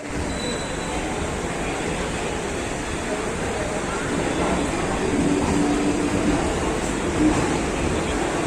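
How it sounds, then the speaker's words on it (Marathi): A late-running night train to Kolhapur rumbles steadily and fairly loud with a broad, continuous roar, as if rolling in close by, with muffled voices in the background. "आता आली आहे ट्रेन"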